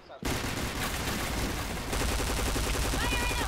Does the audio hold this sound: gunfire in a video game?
yes